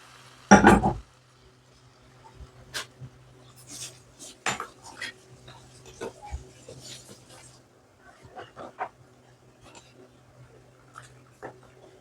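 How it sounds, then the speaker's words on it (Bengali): Hot tempering of oil fried with mustard seeds is poured into a pot of haleem, giving one short loud hissing burst, then light clinks and taps of utensils and dishes nearby. "এখন এই বাগারটা হালিমের মধ্যে ঢেলে দিব।"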